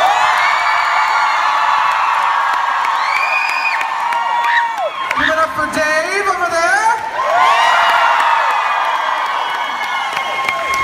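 Loud concert crowd at a show in Munich screaming, whooping and cheering for about eleven seconds, with a brief dip in the middle before the roar swells again.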